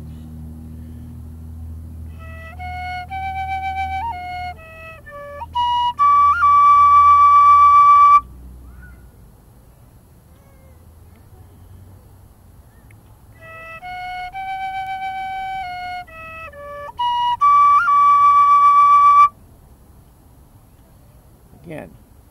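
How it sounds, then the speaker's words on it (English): Penny whistle playing a slow air, clear sustained tones with a rising, transposed passage repeated twice, and a pause between phrases over a low background rumble. "On the penny whistle, I'm transposing a little bit and going back up."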